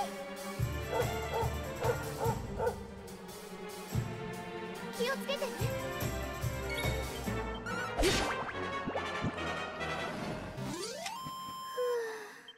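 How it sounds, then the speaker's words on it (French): A dog takes damage in the video game Dragon Quest XI, with game battle music, sharp hit and crash effects and yelping dog sounds mixed together, loud and busy throughout. "Le chien qui prend des dégâts!"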